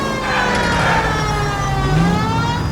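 A wailing police car siren in the video game L.A. Noire rises and falls steadily over a low engine rumble, close and loud, with no talking.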